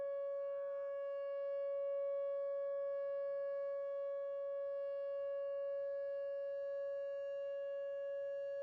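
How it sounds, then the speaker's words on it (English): A tornado warning siren sounds outdoors during storms in the Ozarks, a steady, loud, sustained wailing tone held for the whole stretch with faint background rumble. "They are right next to that tornado siren."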